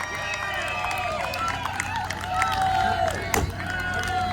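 Spectators at a lumberjack log-chopping championship keep up a steady wash of cheering and shouting throughout, while an amplified voice talks over them.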